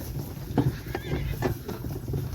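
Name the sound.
horse neighing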